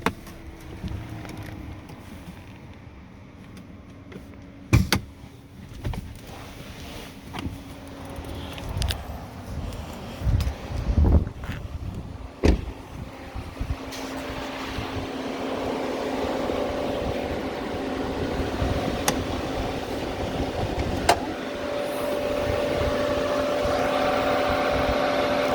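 A 2019 Chevrolet Colorado's cooling fan keeps whirring steadily after the engine is shut off, a low hum with a few clicks and knocks, growing fuller toward the end.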